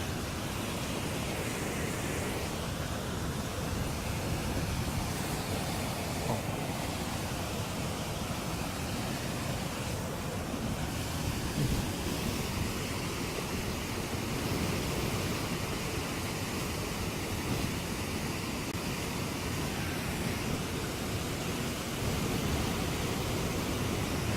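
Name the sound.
waterfall at Katmai park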